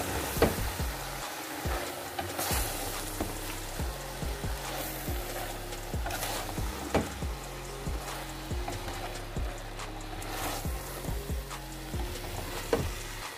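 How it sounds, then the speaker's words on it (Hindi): Spinach being stirred into mutton in a pot, with repeated scraping strokes of a spoon and a steady sizzle running throughout, close and moderately loud with no talking. "और पालक को ऐड करने के बाद इसको अच्छे से मिक्स कर लेंगे।"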